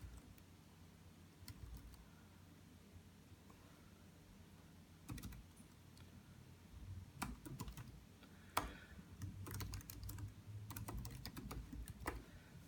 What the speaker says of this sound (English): So you just have to click on these ones and start typing.